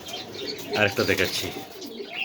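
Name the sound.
pigeons cooing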